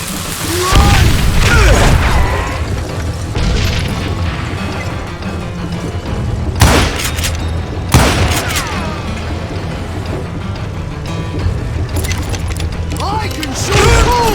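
Dynamite explosions in Call of Juarez Gunslinger: several loud, sharp blasts at irregular intervals, with rumbling crashes and debris between them and in-game voices mixed in.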